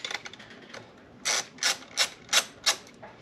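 A socket ratchet clicks close up while loosening a nut on a 2022 Ford F250, five quick bursts of ratcheting in a regular rhythm after a few faint ticks.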